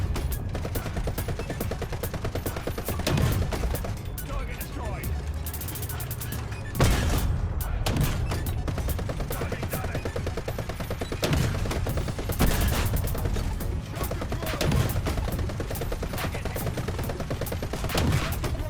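Assorted vehicle-mounted guns fire in the Trailmakers video game, rattling off dense, continuous rapid bursts with repeated heavier booming shots, loud and close throughout.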